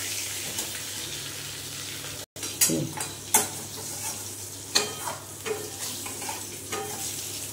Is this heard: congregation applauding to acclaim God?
no